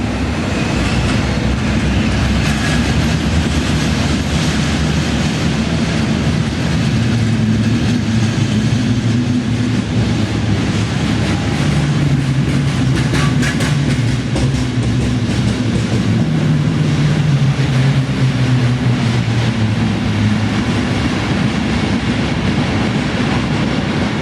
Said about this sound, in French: En attendant notre TGV pour Chambéry, nous regardons passer les trains.